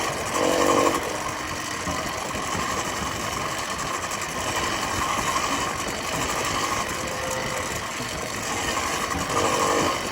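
A newly built gas motorized bicycle engine, running on its first day and still breaking in, idles with a steady buzzing chatter that holds at an even level throughout.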